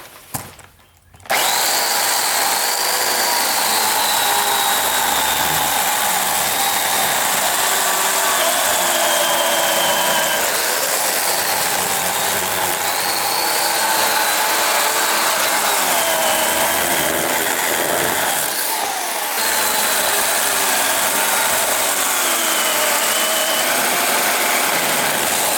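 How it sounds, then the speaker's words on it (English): A chainsaw cuts through long-fallow mulberry wood, its engine roaring loud and steady close by, with a brief lull near the start and another short dip later in the run. "Thus, chainsaw time."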